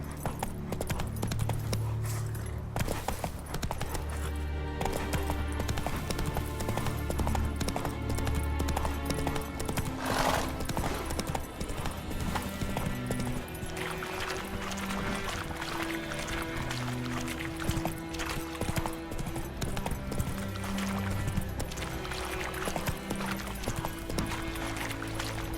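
Roach the horse galloping in The Witcher 3, a steady rhythmic clip-clop of hooves running continuously under game music, with no talking.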